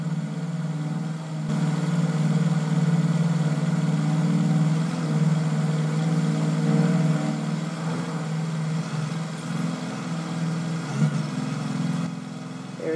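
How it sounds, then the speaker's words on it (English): A steady, droning aircraft-engine roar from the Napier Railton race car in Forza Horizon 4 holds at a constant pitch near top speed, loud and continuous with no voices over it. "I'll let you listen to the engine as well."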